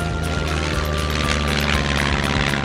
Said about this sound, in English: The seaplanes picking up speed and taking off.